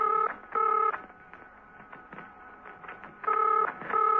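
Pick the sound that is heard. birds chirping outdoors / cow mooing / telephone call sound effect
telephone call sound effect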